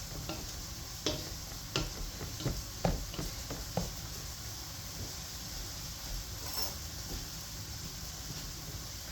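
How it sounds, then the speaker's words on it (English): Butter being mashed into cooked potatoes with a hand masher, soft squelching thumps at an uneven rhythm, fairly close but quiet. "Now we're just going to take my masher and mash the butter into the potatoes"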